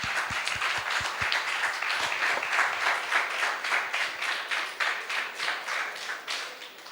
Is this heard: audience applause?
yes